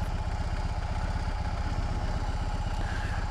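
A BMW R18 motorcycle engine idles steadily with a deep, even low-frequency throb, close and continuous, with no voices.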